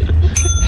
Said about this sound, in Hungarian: Nyomd már meg a csengőt, Erik.